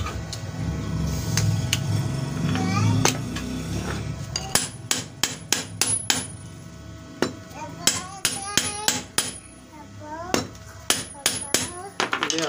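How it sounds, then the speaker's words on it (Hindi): A bearing hammered into a water pump motor, with a series of sharp metallic blows, irregular at first and then quicker and steady, heard close and loud after a stretch of background noise and faint voices. "अब ये बैरिंग हम इसमें ठोकेंगे,"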